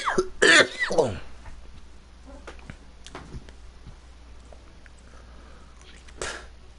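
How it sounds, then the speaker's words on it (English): Harsh throat clearing and a couple of rough coughs after smoking, loud and close at the start, then quieter shuffling and small noises, with one more short cough-like burst near the end. "I'm almost fainting from fucking coughing after these hits"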